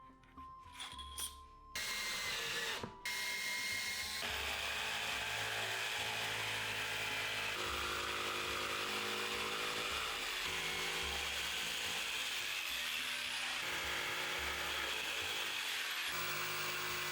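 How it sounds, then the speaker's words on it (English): A jigsaw buzzes through wood with a rough, continuous rasp, after a few short starts and stops at the beginning; no talking. "I break out the jigsaw I use very rarely"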